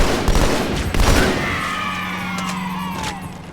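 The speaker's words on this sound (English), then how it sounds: "Someone's shooting at me." Halo 2 gunfire on The Oracle level, a quick burst of shots followed by a whooshing, descending projectile streak that fades over a few seconds, loud and close.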